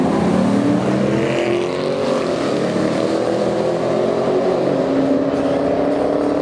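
Racing engines of a black and red Ford Mustang, a white Mustang and a white Chevrolet Camaro with a black hood roar loud and steady from close by, their pitch climbing and shifting as the cars run side by side.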